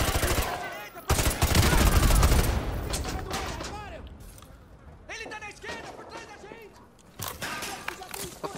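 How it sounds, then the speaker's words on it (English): Militia machine gun fire in Modern Warfare 2 Remastered: dense bursts of automatic gunfire with crackling impacts, loud in the opening seconds, then sporadic bursts, with voices talking over the firing. "We're taking heavy fire from the militia here"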